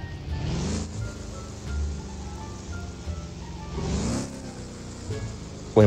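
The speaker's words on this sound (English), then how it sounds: "Wait, my car's still driving." A car engine runs in the Roblox game Liberty County, with a steady low hum that swells in a few surges of revving, rising and falling across the stretch, loud and close.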